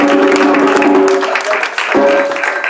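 Steady clapping from a crowd at a Kwanzaa gathering, dense and continuous throughout, with tonal sounds layered over it.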